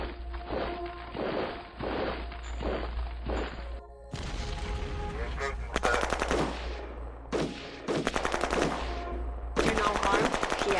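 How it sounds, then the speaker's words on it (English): Gunfire from troops in the Shadow Empire strategy game, with rapid machine-gun bursts and repeated sharp shots in clustered volleys, loud and continuous across the stretch. "Get a little bit of shooting done here."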